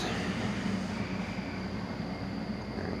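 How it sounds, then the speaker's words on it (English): Train rumbling steadily a few blocks away near a shop by the tracks, a broad continuous low roar with a faint high whine, moderately loud and unbroken with no talk over it. "How far away is that train?"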